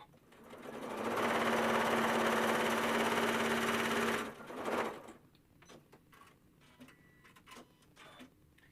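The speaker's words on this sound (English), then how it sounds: "Sew my 1/4 inch seam." A sewing machine runs a steady quarter-inch seam through quilting fabric, a fast continuous whirring stitch for about three seconds that then stops, followed by quiet handling noises.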